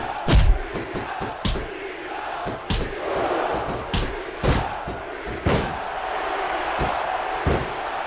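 A wrestling arena crowd in the video game WWE SmackDown vs Raw 2006 roars and cheers, punctuated by repeated loud slams and thuds from the ring at irregular intervals, with no talk over it.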